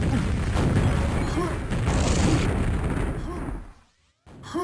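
Rocket explosions boom repeatedly in a fast first-person shooter duel match, loud, dense blasts layered over game noise, ending in a brief silence before the action resumes.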